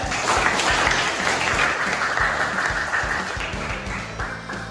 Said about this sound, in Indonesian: Tepuk tangan untuk Rija.